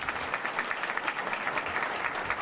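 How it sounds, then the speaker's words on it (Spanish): Audience applause at an international book fair of Dominican women writers, a steady, dense patter of many hands clapping at moderate volume, continuous for the whole stretch with no talking over it. "llamar a nuestro concejal Idanis Rodríguez, a quien le pido un fuerte aplauso."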